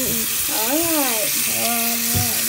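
Soapy hands are rinsed under a running tap with a steady, close hiss of water while a person talks over it.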